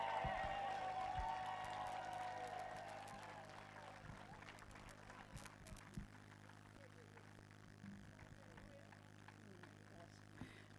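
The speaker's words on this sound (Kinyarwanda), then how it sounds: "Amashyi mukomere Imana amashyi." Applause from a crowd fades from loud to a scattered patter of claps over a low steady hum.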